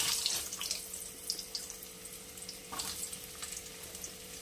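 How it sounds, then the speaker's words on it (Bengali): Potatoes fry in hot mustard oil for a Bengali unripe jackfruit curry. They give a steady, fairly soft sizzle with scattered crackles and pops, and no one speaks. "তেল গরম হয়ে গেছে, আমি দিয়ে দেবো, আগে ভেজে নেব আলুগুলো।"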